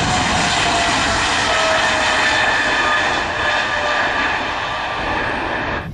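Airplane flying with a steady, loud broadband engine roar that holds constant throughout, close and dominant with no talking.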